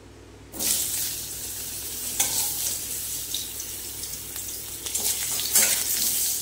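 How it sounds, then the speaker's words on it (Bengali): Bottle gourd pieces dropped into hot oil burst into a loud, hissing sizzle that starts abruptly and stays continuous, with scattered crackles and a few stirring scrapes up close. "এবার তেলটা গরম হয়ে গেছে, এবার দিয়ে দিচ্ছি লাউগুলো।"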